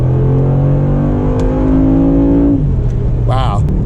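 A 2019 Mercedes G63 AMG with a 4-liter twin-turbo V8 revs hard close by, a loud rising engine drone with climbing harmonics that settles after a couple of seconds, followed by a brief voice.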